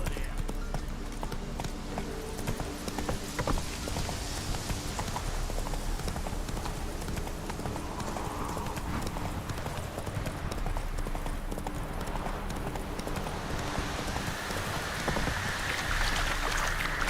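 A horse gallops in the Witcher 3 video game, its hooves making a rapid, steady clip-clop beat over a constant rain-like patter and ambient wash that runs throughout.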